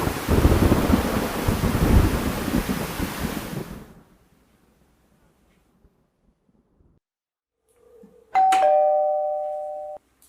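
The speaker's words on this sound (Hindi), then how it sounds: "बाहर बहुत तूफान और बारिश हो रही है" Heavy rain pours loud and dense with a low thunderous rumble for about four seconds, then cuts off into near silence, and a bright two-tone doorbell chime rings alone near the end.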